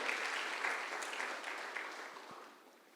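A church congregation applauds, a steady wash of many hands clapping at moderate distance that gradually fades toward the end.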